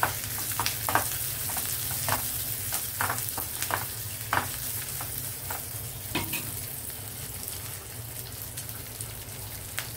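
Curry leaves hitting hot oil crackle and spit in a busy sizzle, with scattered sharp pops over a steady frying hiss, close up and without talk.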